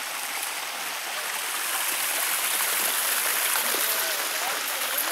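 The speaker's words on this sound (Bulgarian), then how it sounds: "Водопада в Добърско." The waterfall at Dobarsko roars as a continuous, broadband rush of falling water, loud and steady, heard from nearby throughout.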